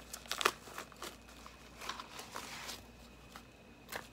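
A small foil lip balm sample packet crinkles faintly in the hands, with a brief cluster of sharp crackles at the start and then a few scattered soft rustles. No one speaks.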